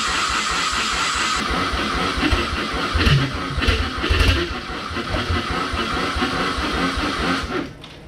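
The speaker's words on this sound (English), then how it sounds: "the fact that it's chugging tells me that it wants to start" A rear-wheel-drive Ford Fusion engine cranks and chugs without catching, a loud, close, rough churning that runs steadily for about seven seconds, then cuts off.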